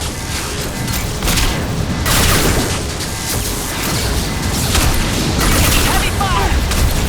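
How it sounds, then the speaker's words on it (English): A flashbang grenade goes off during combat in Mass Effect 2 Legendary Edition: heavy booming bursts and crackling blasts rise and fall over continuous battle noise, while game characters shout over the din. "Watch out, flashbang in front!"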